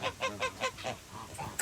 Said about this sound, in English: Look at you crazy birds. Guinea birds.